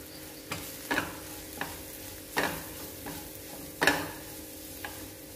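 Spoon scraping and stirring a green pea and potato masala curry in a pan with garam masala, several distinct strokes at irregular intervals over a soft steady sizzle, close and fairly loud.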